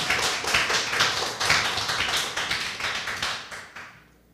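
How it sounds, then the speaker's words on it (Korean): Audience applause at an indoor lecture: a dense, close patter of many hands clapping steadily for several seconds, then quickly dying away to quiet, with no talking. "박수 한번 쳐주세요."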